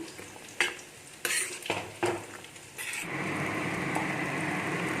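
A spoon stirs ground garam masala into food cooking in a pan, making a few scraping clinks against the metal followed by a steady, soft sizzle.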